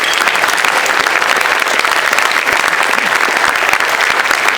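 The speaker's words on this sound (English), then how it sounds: "Again, round of applause for Grassroots America." Crowd applause at a Fredericksburg tea party Boots & BBQ gathering, a loud, dense, even roar of clapping sustained without a break.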